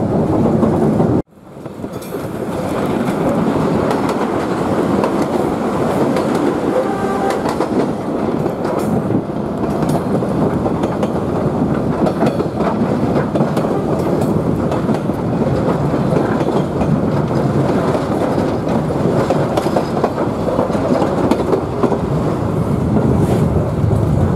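The Savannahlander train rumbles steadily along the rails for the whole stretch, loud and continuous with wind buffeting, after a brief dropout at the start.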